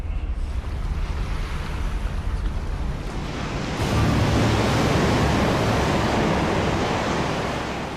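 Strong wind gusting to about 35 mph and rough sea waves batter a fishing trawler during a storm, a loud, dense roar of wind and water that swells sharply about halfway through.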